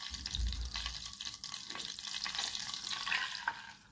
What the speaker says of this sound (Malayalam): ബട്ടർ നന്നായിട്ട് മെൽറ്റായി തിളച്ച് വരുമ്പോൾ അതിലേക്ക് ഒരു 1/2 cup പാലൊഴിച്ച് കൊടുക്കുക